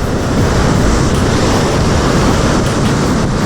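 Sea waves washing back off the shore where sea bass are being fished with lures, a loud, continuous wash and rush of surf mixed with wind buffeting the microphone, with no voices.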